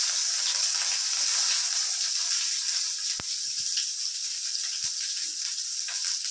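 Black cumin seeds and chopped onion frying in hot oil for a drumstick-leaf mash, a steady close hiss with a few soft clicks of stirring and no voices.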